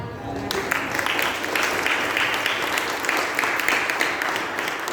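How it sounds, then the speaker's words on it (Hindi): A church congregation claps through a sermon, producing dense, sustained applause at a steady level with no pauses. "ये तालियां मेरे लिए नहीं है"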